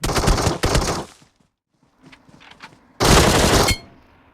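Loud bursts of automatic gunfire in the PUBG Mobile battle royale game: a rapid volley, a quiet gap with faint scattered shots, then another intense burst that cuts off sharply.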